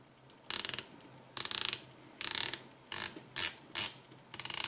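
Ratcheting clicks from the bezel of a 40mm titanium Zelos Swordfish dive watch being turned, in six quick close bursts of crisp metallic ticks with short pauses between, no voices.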